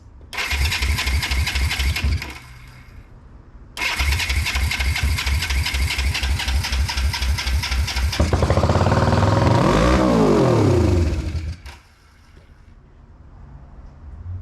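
A carbureted motorcycle engine cranks, then fires and runs loud and close with its throttle stuck, racing high before cutting back to a lower idle, all without talk.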